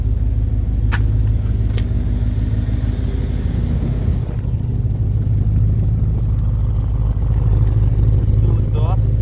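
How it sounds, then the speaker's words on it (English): A 1968 Cord Warrior Roadster's engine rumbles steadily at idle through its exhaust, loud and close, with wind buffeting the microphone on a cold day and a voice briefly heard over it. "Cool exhaust."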